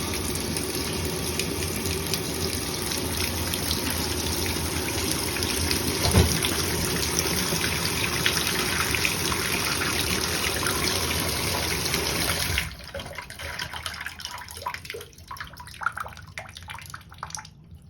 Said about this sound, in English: now we'll see if it actually drains